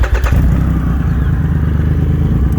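An old motorcycle started with the clutch pulled in kicks over and settles into a loud, close, lumpy idle with a steady low rhythmic thump throughout, no voices present.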